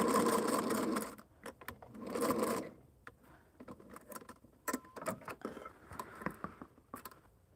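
A sewing machine stitches a seam on a Halloween hexagon-patch table topper in two loud, fast whirring bursts, followed by softer clicks, taps and fabric handling nearby, with no speech.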